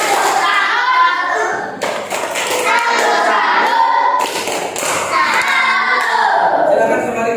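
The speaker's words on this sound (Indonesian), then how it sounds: "Tepuk salut untuk kelompok 5." A classroom group of children claps the rhythmic 'tepuk salut' salute, patterned hand claps and thumps repeated with chanting kid voices throughout, loud and close.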